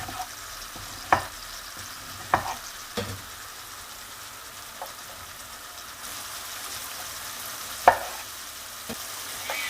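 Cold döner meat dropped into a hot frying pan sizzles with a steady fizzing hiss, broken by several sharp clinks and scrapes of a utensil stirring the meat, close and without talk.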